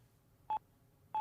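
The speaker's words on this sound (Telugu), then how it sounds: "ఏ ఫోన్ చేయి మళ్ళీ." Two short telephone keypad dialing tones, clear and evenly spaced, separated by near silence.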